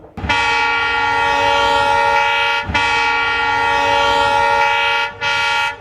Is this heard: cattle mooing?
no